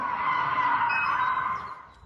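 A car's tyres screech in one long, steady, loud skid that fades toward the end, recorded by a local resident during an illegal nighttime car rodeo in France.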